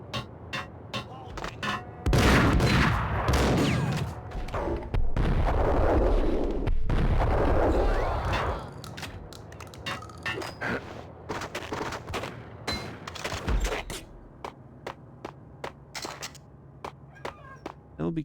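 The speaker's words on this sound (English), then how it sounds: "Oh, shotgun." Shotgun gunfire in the third-person shooter Max Payne, heavy loud blasts and a sustained roaring burst of shooting through the middle, then quieter spaced single shots and clicks, with some speech mixed in.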